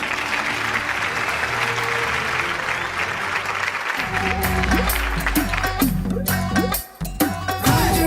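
Award show audience claps and cheers loudly for a few seconds before a music performance with drums and singing takes over.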